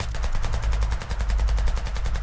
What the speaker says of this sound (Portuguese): Agora eu tô sendo um alvo de tiros aqui.